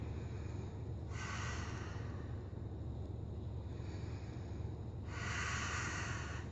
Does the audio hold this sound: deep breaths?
yes